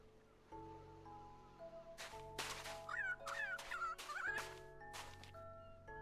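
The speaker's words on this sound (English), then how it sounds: "Oh, it's a lyrebird." A lyrebird in a Minecraft modpack game gives a series of varied bird calls, several sharp whistles and warbling notes in quick bursts over a steady electronic music backdrop, moderately quiet.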